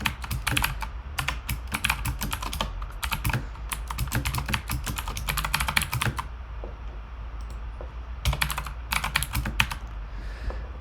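Go code typed on a computer keyboard: rapid, close clicking keystrokes in dense bursts, broken by a pause of about two seconds before typing resumes, with no speech over it.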